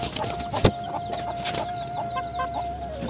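Clucking from a Silkie chicken among a hatch of chicks, a few short soft calls over a steady background hum, with one sharper knock near the start and no talking.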